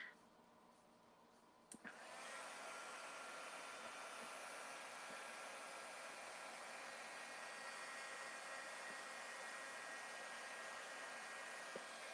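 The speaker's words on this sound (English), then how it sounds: "that way my heat gun doesn't shoot my chipboard all over my desk" Heat gun switching on with a click and then blowing a steady, loud roar of hot air across chipboard at a craft desk, continuing without a break.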